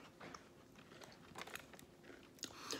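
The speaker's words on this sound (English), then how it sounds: "Then you bite off the opposite corner." Crisp bite into the corner of a Tim Tam chocolate biscuit, a few quiet crunchy snaps and crackles close to the mic, followed by soft chewing.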